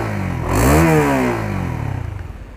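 A 2021 Honda CBR150R engine revs up once and falls back to a rough, throbbing idle, close and fairly loud.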